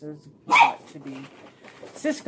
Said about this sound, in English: my dog is playing. So if you hear him barking,